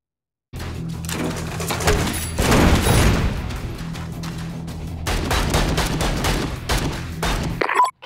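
Weapons fire in the video game Vicious Attack Llama Apocalypse as loud, dense, rapid bursts of shots. A brief pause separates two sustained volleys, and chirpy game effects sound over a droning background.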